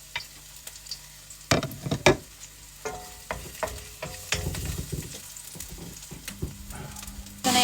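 Chopped garlic frying in hot cooking oil in a pan, a steady close sizzle broken by several loud scraping stirs and clatters, with no voices.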